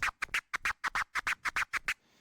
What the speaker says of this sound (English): let me use the so-called chirp scratch as an example.